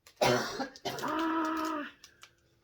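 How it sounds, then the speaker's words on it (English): Someone still recovering from being sick coughs up close: a sharp burst followed by a drawn-out throat-clearing cough, then a couple of small trailing sounds. "do apologize for the coughing, as I am still recovering from being sick."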